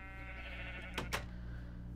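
A sheep in Minecraft bleats, two quick close cries over a droning background tone.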